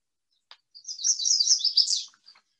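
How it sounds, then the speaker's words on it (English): A yellow warbler delivers a single sweet, rapid phrase of high, bright chirping notes that rises into a quick ending, heard close against a silent background. ""Sweet, sweet, sweet, I'm so sweet," yellow warbler."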